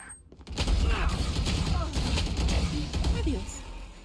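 Bucky shotgun fire in Valorant during a loud competitive match, dense with overlapping gunfire bursts and mechanical clatter, with voices chattering throughout.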